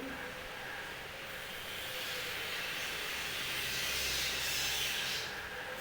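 Washed prawns sizzling as they hit a hot pan in a home kitchen, a steady hissing fry that swells slightly toward the end with faint low rumble beneath.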